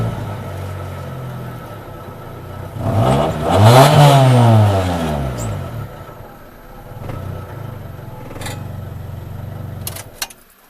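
A Nissan B13 Sentra engine, idling rough with its idle air control removed, revs up once with a rising and falling sweep, then settles back to a low idle rumble. The rev is close and loud.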